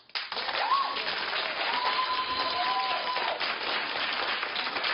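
Talk-show studio audience breaks into loud, sustained clapping mixed with a few whoops and cheers, continuing evenly throughout.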